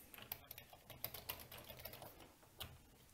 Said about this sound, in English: Keyboard is working and it's very responsive